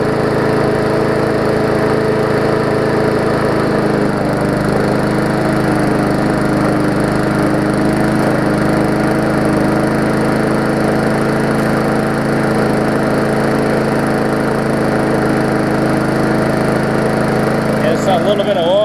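A Murray 3.5 hp classic push mower's small engine runs steadily and loudly at close range for the whole stretch, holding an even, constant drone.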